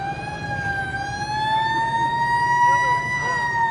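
A vintage ambulance siren during a Canada Day event in Saint Andrews by-the-Sea wails with a steady, slowly rising tone and rich harmonics, loud and sustained over background voices.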